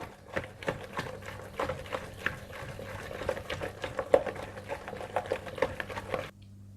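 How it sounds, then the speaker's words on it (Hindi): Besan pakora batter with water is stirred in a bowl, giving soft, quiet, irregular wet slapping and tapping strokes in a steady rhythm, with no voices over it. "और इसे अच्छी तरह से इस तरह से मिक्स करते जाएं।"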